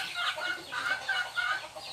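Fighting cocks clucking close by in a rural Thai setting, a quick burst of overlapping clucks with some faint background noise.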